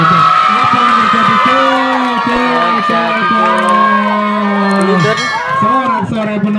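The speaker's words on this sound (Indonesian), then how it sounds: "Sorak-sorai penonton yang cukup meriah di lapangan sektor A ini" Lively crowd of spectators cheering and shouting throughout at an elementary school boys' football match in Slogohimo, loud and continuous with children's high-pitched yells rising and falling over the din.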